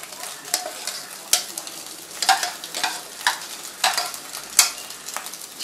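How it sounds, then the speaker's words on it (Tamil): Chicken pieces fry in a pan while being stirred, with a crackling sizzle and repeated bursts of scraping and clattering from the utensil at an uneven, busy rhythm, close and fairly loud. "இப்போ வந்து இந்த சிக்கனையும் போட்டு நம்ம லைட்டாக ஃப்ரை பண்ணிக்கலாம்."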